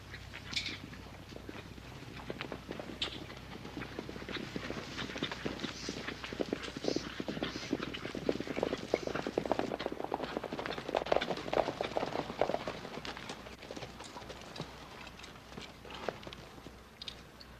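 Horse hooves clip-clopping in a western TV drama, a steady run of soft, fairly distant hoofbeats continuing throughout with no talking over them.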